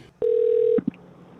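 A telephone line gives a steady dial tone, then two short button beeps as a call is placed for a radio-style podcast. The tones are close and clear over a quiet background, with no talk.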